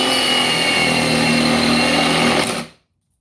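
A cordless impact driver runs in one steady, loud, high-pitched burst that cuts off abruptly near the end.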